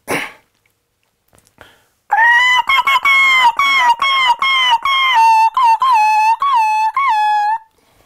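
A person imitates a bird with their voice, giving a long series of high, tonal, warbling calls that rise and fall in quick rhythmic bursts, loud and close, after a short sharp breathy sound at the start.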